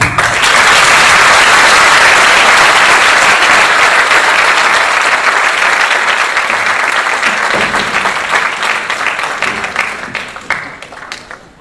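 Loud, sustained audience applause fills a school choir concert hall, dense clapping holding steady before gradually thinning and fading toward the end.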